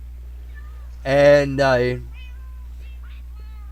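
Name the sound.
cat meowing in Minecraft video game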